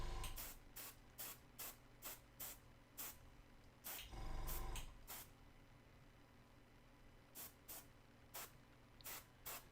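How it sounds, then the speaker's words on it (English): Short bursts of spray paint dust a miniature Space Marine from above, about a dozen brief hissing puffs in an uneven rhythm, with one longer spray near the middle, in an otherwise quiet room. "So just doing this light spray from above is kind of perfect for this."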